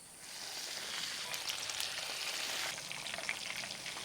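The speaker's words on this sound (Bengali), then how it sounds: "আর বাকি মাছগুলোও যে আছে সেগুলোকেও ভেজে নিচ্ছি।" Bombay duck fish fries in oil for a crisp fry, giving a soft but continuous sizzle with a fine crackle that runs evenly from start to finish, and no voices.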